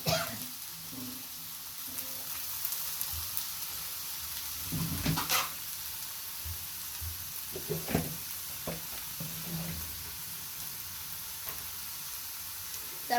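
Chopped potato and water lily stems fry in a pan for an egg and shapla bhaji, giving a steady low sizzle throughout with occasional louder bursts of stirring and scraping, close by, with no talking.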